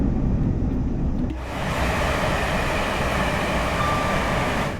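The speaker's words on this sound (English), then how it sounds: "the motor sounds on the 802 are still recycled from the Electrostar" Motor sound of a GWR Class 802/1 IET train in Train Sim World 6, heard on the Riviera line near the coast, a loud steady broadband rumble and whine that swells in after a brief quieter start and holds continuously.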